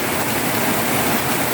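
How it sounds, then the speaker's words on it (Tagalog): Heavy rain in a thunderstorm pours down steadily in a dense, even hiss, with no pauses or voices. "Malakas ang ulan at may kulog."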